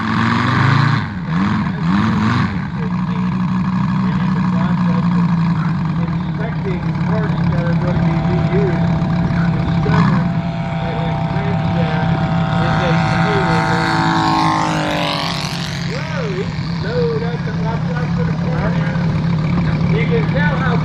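Engine of a 1/3 scale Barth Waco giant scale model biplane in flight at a warbirds airshow, a steady loud droning hum with a pitch sweep as it passes, continuous throughout with a voice talking over it early on.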